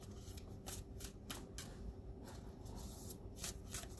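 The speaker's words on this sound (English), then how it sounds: "I shuffle." A deck of cards shuffled by hand in a quiet room, soft repeated riffles and slides in a steady rhythm, close but faint over a low background hum.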